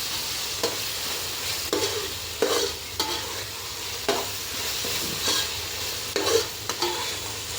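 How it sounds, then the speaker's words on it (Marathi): Masala frying in oil for chicken dum biryani, a soft continuous sizzle with intermittent scrapes and knocks of a spoon stirring the pan. "मसाला छान आपण परतून घेऊया तेल सुटेपर्यंत छान परतून"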